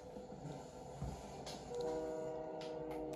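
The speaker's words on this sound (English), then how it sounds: "assuming that the train is fast enough, it won't take me" Passing train with a sounding horn in the Fortnite video game, heard as a faint rumble with a steady tonal horn joining partway through.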